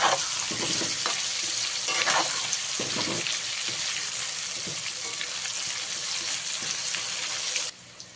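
Potatoes with turmeric and salt frying in a pan over a medium flame, a constant hissing sizzle with intermittent stirring scrapes close up, quieting abruptly at the very end.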